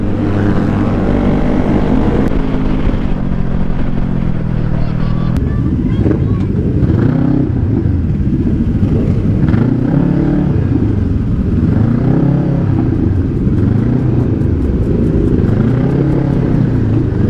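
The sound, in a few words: motorcycles revving on road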